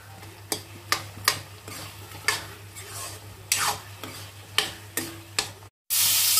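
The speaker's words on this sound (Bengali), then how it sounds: "তো এখানে এই যে মাছের মাথাটা ভাজা হচ্ছে" A fish head marinated in turmeric, salt and cumin fries in mustard oil with a steady close sizzle, punctuated by about ten sharp spatula or utensil taps against the pan at irregular intervals.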